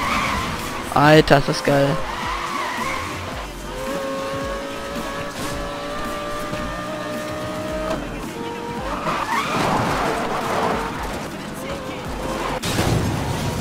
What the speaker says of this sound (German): Ich kann ja nur driften, so läuft das.